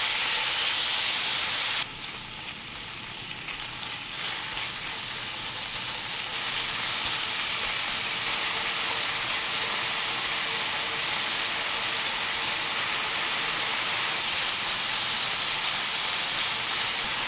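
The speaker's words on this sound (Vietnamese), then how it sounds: "Rồi mình cho thịt vào xào với lửa vừa nè" Pork belly sizzles steadily in a hot oiled pan over medium heat, a continuous loud hiss that jumps up sharply near the start and then stays even, with no talking.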